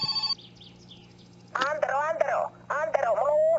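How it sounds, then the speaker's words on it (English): A telephone rings inside a video game, with electronic trilling bursts repeating in clear, fairly loud pulses and short gaps between them. "Okay, so the phone is ringing."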